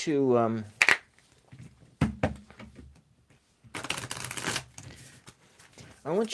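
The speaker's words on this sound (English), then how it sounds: "while I am shuffling this deck" A tarot card deck is shuffled by hand in short crisp riffles and a longer rustling burst, the card noise broken up by someone talking at the start and end.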